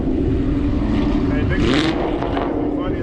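Loud, close car engine at a car meet in Michigan, rumbling with a deep, rough exhaust roar that rises briefly in a rev, while people talk over it.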